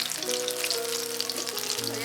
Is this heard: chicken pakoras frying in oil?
yes